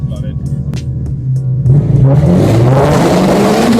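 A car with a modified exhaust fitted with a nozzle revs hard, its engine note climbing and rising in pitch as it gets louder and then holds a loud, rough roar to the end.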